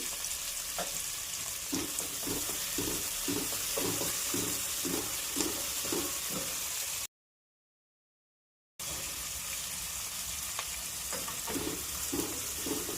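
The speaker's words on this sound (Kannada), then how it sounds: "ಕರಿಬೇವಿನ ಸೊಪ್ಪು, ಸ್ವಲ್ಪ ಒಂದು 2 ನಿಮಿಷ ಫ್ರೈ ಮಾಡ್ಕೊಳ್ಳೋಣ" Curry leaves and chopped onion fry in hot oil for an okra stir-fry, a steady close sizzle with rhythmic scraping or stirring taps, broken by a short stretch of total silence before the frying resumes.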